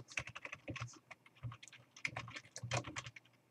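Quick, irregular keystrokes on a computer keyboard while entering Japanese text on a Windows 8.1 PC, fairly close and quiet, a dense patter of separate clicks with short pauses and no talking.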